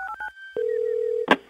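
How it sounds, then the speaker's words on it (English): Telephone dialing tones from a random phone dialer in a robot talk show: a few quick beeps, then a long steady tone and a short burst at the end, clear and alone. "let's use our random phone dialer to make some calls"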